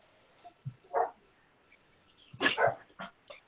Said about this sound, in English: Quiet. There's my 3 dogs.